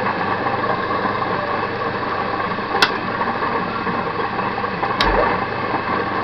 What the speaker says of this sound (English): So we're off 240 volts, 3-phase motor, rotary phase converter.